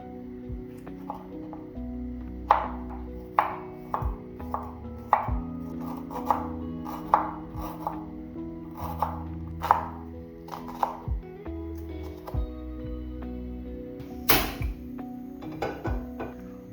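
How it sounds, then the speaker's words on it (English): A knife chops rough cuts of ingredients for a coconut fish curry on a board, about a dozen crisp, evenly spaced knocks up close over a quiet kitchen hum. "I'm going to start off by roughly chopping my ingredients"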